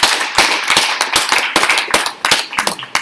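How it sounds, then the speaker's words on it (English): Attendees at an education advisory council meeting give a short round of applause, sharp, uneven claps from a modest group that swell and fade in loose bursts. "can we give everyone a round of applause for your service"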